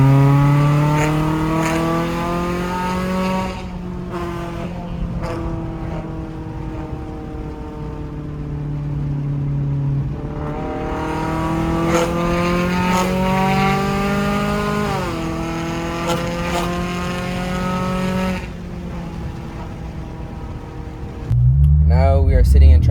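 An Infiniti G37 IPL with a loud, raspy exhaust drones steadily from inside the car, the engine note rising and falling through gear changes over about twenty seconds, with a brief rough burst at the end.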